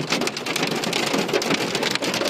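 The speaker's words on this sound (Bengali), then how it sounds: "রিয়াদতে তো শিলাবৃষ্টি" Hail and heavy rain pouring down during a storm in Riyadh, Saudi Arabia, a dense, steady hiss of pelting impacts that never lets up, close and loud with no voices.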